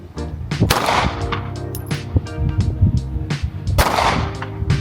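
Loud gunshots from a handgun at a shooting range, two sharp close cracks about three seconds apart, surrounded by rumbling range noise and other distant shots.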